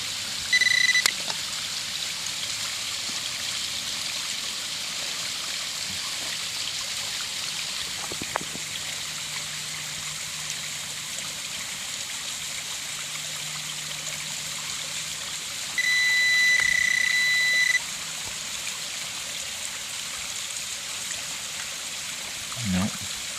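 A cold stream flows at a hidden waterfall, a soft continuous rush and trickle heard close, with a few electronic beeps cutting in over the water.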